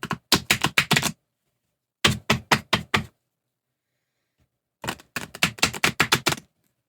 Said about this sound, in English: So let's do a couple of quick shuffles here.